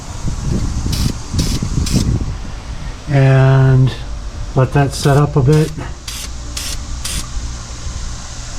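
Short hissing bursts from an aerosol can of VHT roll bar and chassis paint sprayed in a car's wheel well, a quick run of puffs, then talking, then more bursts close by.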